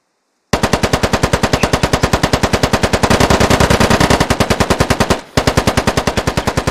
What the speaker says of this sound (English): Sebi switches to his rifle and takes a few shots at Nuclear